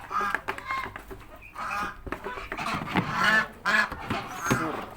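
Goslings honk and chirp in repeated bursts, close and fairly loud, with scattered noises from the flock and the surroundings.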